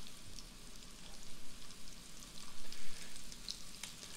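Potatoes fry in a hot pan with a steady, soft sizzle and crackle, faint and close, with small pops and no talking.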